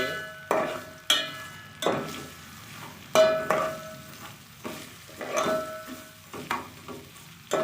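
Vermicelli (seviyan) roasting in a pan and being stirred, with a soft sizzle behind a series of sharp scraping strokes of the spoon against the pan, roughly every second.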